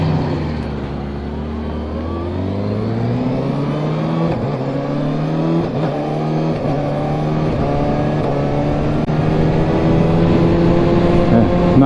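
A 2022 Kawasaki Ninja ZX6R 636 motorcycle engine revs up steadily through the gears on a road, loud and close, with rising pitch and brief shift dips.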